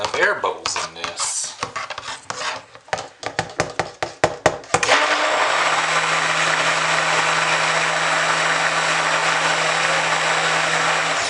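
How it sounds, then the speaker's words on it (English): A stick blender starts up and runs steadily mixing soap, a constant motorized whir with a low hum, after a few seconds of clattering and tapping. "I don't know why this stick blender's putting so much air into it."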